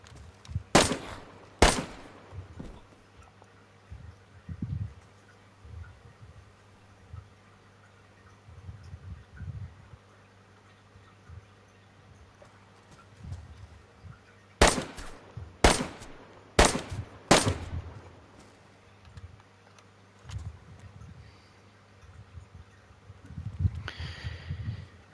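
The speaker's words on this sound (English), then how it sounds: "Oh, someone's shooting down there." Gunfire in the survival game DayZ, set in Livonia: a few distant shots early on, then a quick burst of four or five sharp reports in the middle and a faint shot near the end, over quiet ambient background.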